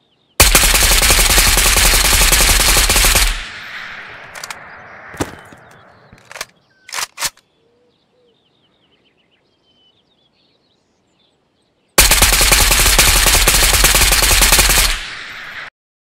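A Kriss Vector submachine gun fitted with a T-Grip fires in Ghost of Tabor, two loud sustained full-auto bursts of about three seconds each, separated by a long gap with a few faint clicks and quiet ambience.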